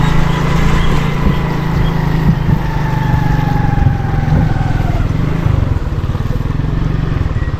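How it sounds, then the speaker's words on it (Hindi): Motorcycle ridden slowly over a flooded road in Karachi after heavy morning rain, its engine a steady low drone throughout, close and continuous with a faint rising whine. "अभी हमने मोटरसाइकिल चलानी है स्लो स्लो।"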